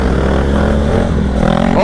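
Superbike motorcycle engines rumble loud and near on a group ride along highways and back roads. Their pitch climbs as a rev builds at the very end of the short burst.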